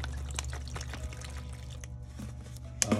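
Water pours from bottles into a container to make a baking-soda solution for anodizing titanium, a steady low gurgling splash beneath faint hum, ending with a brief clunk.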